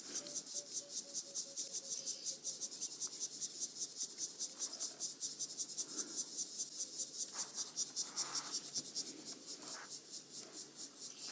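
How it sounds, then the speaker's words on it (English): A dense, pulsing chorus of crickets and cicadas trills steadily and rhythmically in the background on an African safari drive, fairly faint, with a few soft distant sounds underneath. "is some kind of species of cricket, and probably also actually a species of cicada actually"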